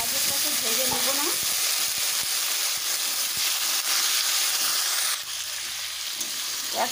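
Potato and carrot pieces frying in hot tempered oil give a steady, close hiss and crackle, with faint stirring knocks now and then and no talk.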